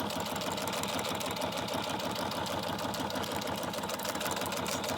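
A sewing machine runs a steady back stitch through cereal-bag and mailer material, a continuous close mechanical whir with a fine rapid rhythm and no talk.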